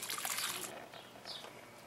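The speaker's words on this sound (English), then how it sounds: "So I brought a couple gallon containers and added more water to the base of the plant." Water from a gallon container splashes and trickles onto the soil at the base of a tomato plant, in two short bursts with a brief pause between them.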